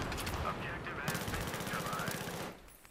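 Sustained automatic gunfire from the Battlefield 3 game at Ziba Tower, a dense rapid rattle of shots filling nearly the whole stretch before cutting off near the end, with game noise layered under it.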